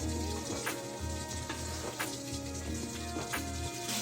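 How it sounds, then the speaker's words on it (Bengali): Round potato slices frying in a little oil in a frying pan, with a faint, steady sizzle and crackle that runs throughout, plus occasional soft taps from a utensil. "তো এবারে আমি ওই আলুগুলো দিয়ে দেব দিয়ে আমি ভালো করে ভাজবো"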